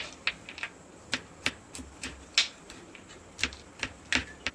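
Almonds are chopped with a knife for basundi: a series of sharp, irregular taps against a board, roughly a dozen distinct close strikes with quiet gaps between them.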